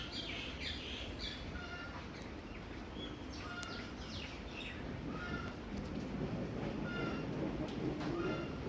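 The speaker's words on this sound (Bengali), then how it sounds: "মুরগি ডাকতেছে।" Chickens cluck at a household, with several short, close calls scattered over a steady low background rumble.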